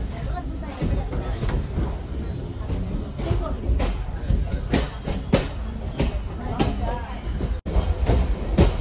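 A MEMU passenger train rumbles steadily along the tracks, its wheels clattering in a rhythmic clickety-clack, with voices talking inside the carriage.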